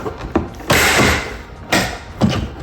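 Plastic trim clips on a Porsche Cayenne armrest pried loose with a pry tool, making a few close, sharp creaking snaps and scraping pops in quick succession.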